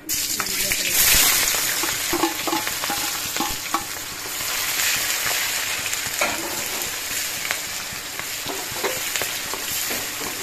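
Onions sizzle and fry steadily in hot oil in a pan for egg pulao alongside bay leaves and whole spices, with stirring scrapes throughout, close and loud.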